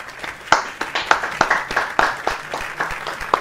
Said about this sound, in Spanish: quiero que le demos un fuerte aplauso a nuestro amigo cantante e intérprete de música venezolana